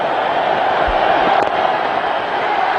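A large cricket stadium crowd in Ahmedabad roars in elation during a night match, a dense, continuous wall of cheering and noise that stays loud throughout.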